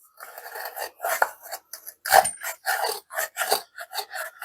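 A Vevor router plane trims a wooden dado, one originally cut by hand with saw and chisel, making a steady series of close rasping scrapes, roughly a dozen short strokes in a quick rhythm.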